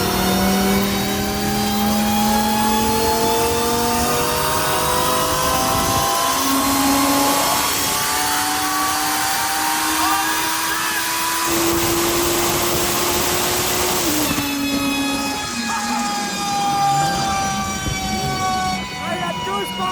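A twin-turbo Lamborghini Huracan Performante tuned to about 1,800 hp accelerates hard on the German autobahn, its loud engine note climbing steadily through several gear changes, heard from inside the car.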